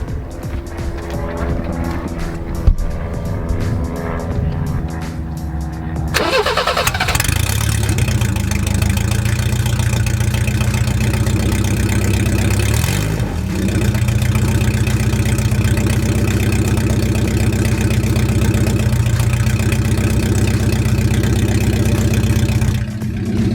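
A BMW E30 engine starts up after a short mechanical prelude and settles into a rough, throaty exhaust idle, loud and close, rumbling steadily.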